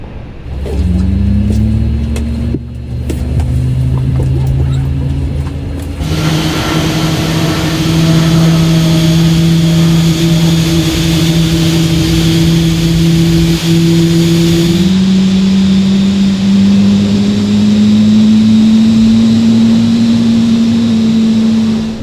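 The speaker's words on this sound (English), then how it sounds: "Engine 2 start." Aircraft engine spool-up in Microsoft Flight Simulator 2024 on a Frankfurt to London flight, a loud steady turbine drone whose whine rises and steps up in pitch as the engine winds to idle, with no talk over it.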